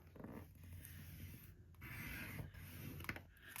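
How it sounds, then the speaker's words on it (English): Tim Holtz specialty paper scored with a tool along a half-inch fold line, giving dry, close rubbing and scraping strokes in short repeated passes at low level, with no talking. "I'm gonna score each of these 1/2 inch to be folded over."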